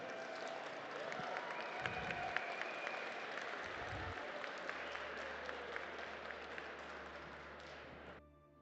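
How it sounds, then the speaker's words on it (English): A crowd at a live-action game event applauds its Dungeon Masters in a steady, even wash of clapping lasting around eight seconds before stopping abruptly over a low hum. "I want to give a round of applause to all of our Dungeon Masters"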